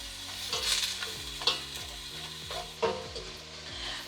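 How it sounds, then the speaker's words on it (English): Onions and carrots sauté in a pot for ginger carrot soup, a quiet continuous sizzle punctuated by several spoon scrapes and knocks against the pot at irregular intervals. "saute it, like I said, until the veggies are soft"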